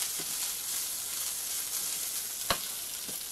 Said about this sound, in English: I've reheated my chorizo in a frying pan.